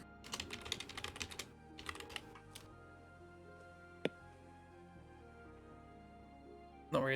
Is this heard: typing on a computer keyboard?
yes